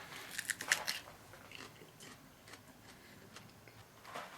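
Someone bites and chews a Brazilian Starfish pepper, eaten close to the seeds, making a few crisp crunches near the start followed by quieter, scattered chewing clicks, close up.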